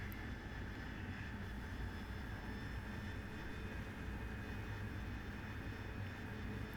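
Steady, continuous jet engine roar of an AV-8B Harrier in the DCS flight simulator, a constant broadband rush with a low rumble and faint high whine, unchanging and fairly close throughout.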